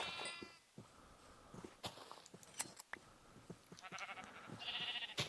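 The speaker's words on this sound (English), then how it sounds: "I got a friend for you. One of these sheep." Sheep bleat in Minecraft, a few short nasal calls spaced through the clip, with soft footstep and movement clicks from the game between them.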